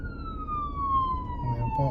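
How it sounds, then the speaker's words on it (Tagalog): An ambulance siren wails, sweeping steadily downward in pitch over road and engine noise, with a faint voice underneath. "may ambulansya po kaya kailangan natin tumigil"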